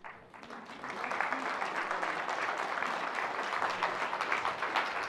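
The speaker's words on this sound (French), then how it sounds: "merci pour vos applaudissements" Lecture audience applauding at the end of a talk, a dense sustained wash of many hands clapping that swells quickly and holds steady to the end.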